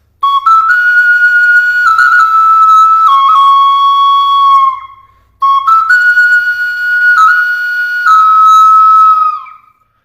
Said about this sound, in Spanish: Esta es la flauta